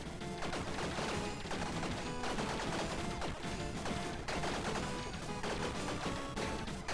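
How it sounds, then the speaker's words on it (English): Dense, continuous barrage of explosions from the video game Tiny Rogues, loud and chaotic with overlapping blasts and crackling bursts and no gaps throughout. "It's just very loud now with all the explosions."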